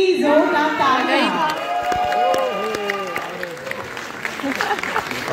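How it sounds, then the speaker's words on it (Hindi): Audience applause and cheering at a live music performance in Delhi, crowd clapping and shouting under and after lingering singing and music, with voices carrying over the noise. "फाइनली जोरदार ताली."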